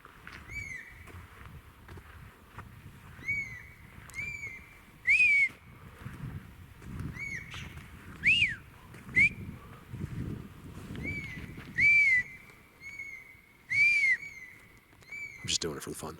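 Loud sharp whistles are captured by a trail camera deep in a remote forest, repeated rising and falling calls of varying length scattered over quiet woodland background.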